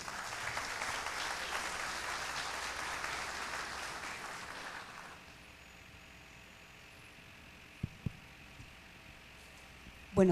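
An audience at a public-sector conference inauguration applauds for about five seconds, moderately loud clapping that fades into a quiet room with a few faint knocks afterward.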